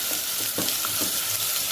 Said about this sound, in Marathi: अद्रक लसूणची पेस्ट, याला चांगलं खालून घ्या